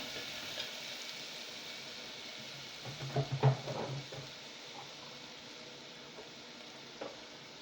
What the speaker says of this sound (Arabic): شايفين بحمرها عادي خالص